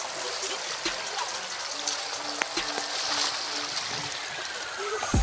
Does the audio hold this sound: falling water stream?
yes